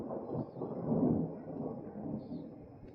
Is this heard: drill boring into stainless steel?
no